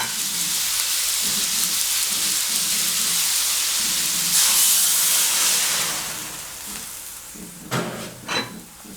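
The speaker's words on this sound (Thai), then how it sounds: "ตรงนี้ก็เดี๋ยวเราหยอดน้ำนะครับ" Water drizzled into a hot pan of stir-fried pork and pumpkin brings a loud, steady sizzle that swells with a burst of steam, then eases, followed by a couple of spatula clanks.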